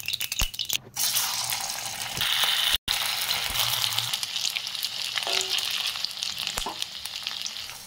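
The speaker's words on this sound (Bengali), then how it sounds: "লাল লাল করে ভেজে নিব।" Poha and suji snacks fry in hot oil in a kadai, giving a steady bright sizzle broken by occasional clinks and scrapes of a spatula.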